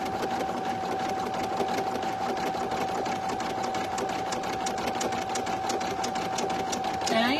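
An embroidery machine stitches an in-the-hoop mug rug on a 6x10 hoop, its rapid, even mechanical chatter running continuously up close, with a voice heard faintly near the end.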